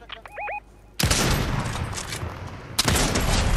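Bursts of video game gunfire crack out in dense rapid volleys, loud and close, with a short pause between two sustained barrages after a brief electronic chirp at the start.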